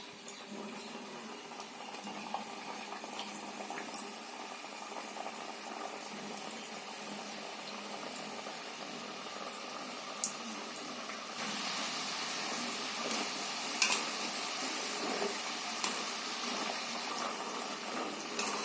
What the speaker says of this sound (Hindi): ये देखिए तेल हमारा गर्म हो चुका है और ये मीडियम टू हाई फ्लेम में हम इसे तलेंगे।